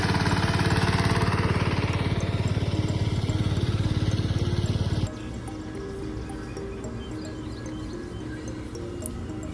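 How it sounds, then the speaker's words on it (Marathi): A steady, loud tractor engine chugs with a rapid rhythmic throb on a farm field during sowing, then drops to a quieter, rougher idle partway through, running continuously without talk. "मी ते ट्रॅक्टर चालवतोय"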